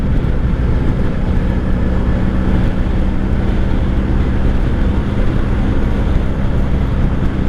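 A 1984 Honda V65 Sabre VF1100S motorcycle rides a highway at night, its engine and rushing wind forming a steady, loud, broadband drone throughout with no talk.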